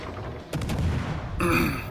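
Naval guns of the cruiser Atlanta firing high-explosive shells in World of Warships Legends: a quick series of sharp gun reports over a low rumble, ending in a brighter burst, loud and close.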